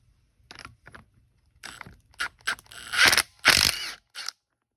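Metal parts clicking and scraping as the plunger is worked out of a Kubota diesel injection pump, a series of short irregular mechanical clatters and ratchety rasps growing louder toward the end.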